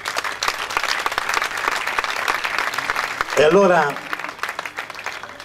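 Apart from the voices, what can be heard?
audience applause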